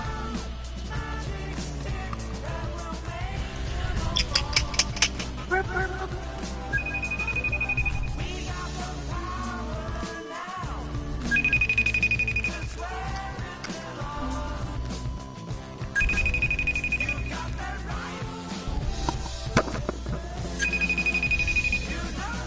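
A telephone rings in short, high electronic bursts, repeating about every four to five seconds over a busy background of music and noise.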